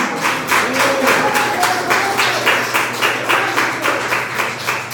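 A congregation at a Portuguese-language church service claps in unison, a loud steady rhythmic beat of roughly two claps per second throughout, with faint voices underneath.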